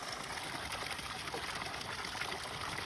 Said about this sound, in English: There's the water feature doing its thing.